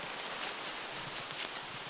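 Wind rustles through trees and falling leaves on a backpacking trail, a steady broadband hiss with faint crackles throughout, moderately close and without talk.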